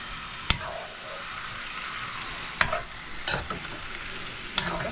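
Chicken adobo being stirred in a frying pan, with a steady sizzle of frying under a few sharp spoon scrapes and clacks against the pan, no talking.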